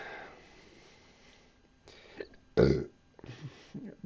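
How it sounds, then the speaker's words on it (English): Burp after drinking beer, one short throaty belch in a quiet room, with brief bits of talk and breathing around it. "Beer makes me burp too."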